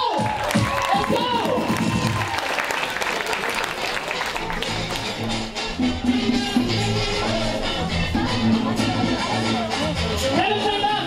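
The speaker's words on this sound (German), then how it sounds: "Applaus! Let's go!" Loud, dense audience applause with whooping and cheering fills a rap cypher event for the full stretch, with shouted voices and crowd noise swelling throughout.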